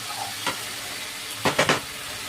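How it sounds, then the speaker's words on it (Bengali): Spices being sautéed and stirred in a pan for a Bengali curry, with a steady sizzle and a few sharp scraping stirs near the end, no voices. "মশলাটা খুব সুন্দরভাবে কষানো হয়ে গেছে।"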